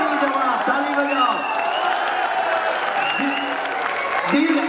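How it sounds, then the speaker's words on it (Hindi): A crowd at a poetry recital claps and cheers steadily, with a voice speaking or reciting over the applause. "जवाब ताली बजाओ।"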